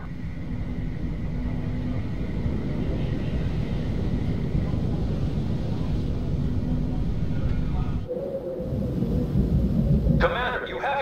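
Aircraft diving in on a target in the R.U.S.E. strategy game: a steady, heavy rumbling roar of engines and explosions fills the whole stretch, shifting near the end into a brighter burst of gunfire or blasts.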